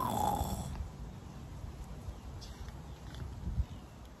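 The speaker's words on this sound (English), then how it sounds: "Edwin just snores." Snoring, a soft low breathy snore at the start followed by quieter rumbling breaths, faint and close.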